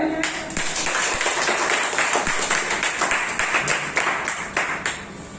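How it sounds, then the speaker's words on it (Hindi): Loud applause from an audience at an event in Daltonganj, dense sustained clapping with sharp individual claps standing out, continuing strongly before tapering near the end. "एक जोरदार तालियां हो जाए"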